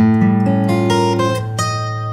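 An electric guitar plays an altered dominant seventh chord, its notes picked in quick succession and left ringing together.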